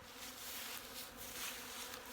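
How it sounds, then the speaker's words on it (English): Honeybees stirring around supplement feeders on a cold March day near 3 degrees, producing a steady, dense buzzing hum that fills the whole clip with no talk. "The bees are just starting to come to life."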